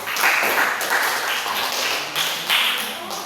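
A classroom group claps for a presentation group, a brief burst of scattered hand clapping that swells, dips and swells again, close and fairly loud.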